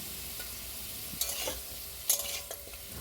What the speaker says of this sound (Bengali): গরম হয়ে যাওয়ার পর আলুগুলো ভাজতে দিয়ে দিয়েছিলাম